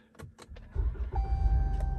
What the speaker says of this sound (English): and the car started.